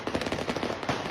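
A firework goes off in a rapid, crackling burst of closely spaced pops, fairly loud and continuous throughout, like a string of small explosions.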